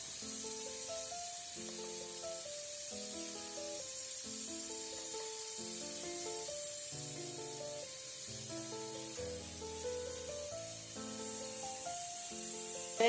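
Prawns sizzle steadily in a hot pan while being flipped one by one, a constant loud frying hiss broken by soft clinks and scrapes of the turner, no talk over it.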